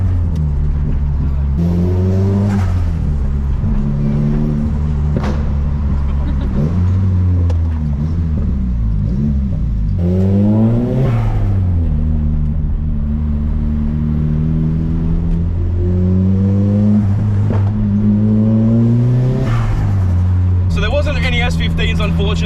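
A Nissan Silvia S15 on the road, heard from inside as a steady engine drone that climbs and falls through repeated revs and gear changes, loud and close throughout.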